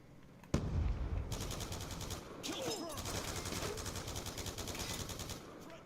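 Rapid automatic gunfire from a Black Ops II match rattles in sustained bursts for several seconds, with a sharp blast near the start and dense overlapping shots continuing to the end.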